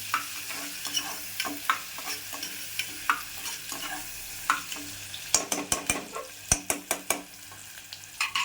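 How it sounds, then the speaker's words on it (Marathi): Onion and tomato sauté in a pan under a light sizzle, with steady scraping stir strokes that turn into a quick series of sharp clacks against the pan toward the end. "परतूया पूर्ण कांदा लाल होईपर्यंत कांदा आणि टोमॅटो"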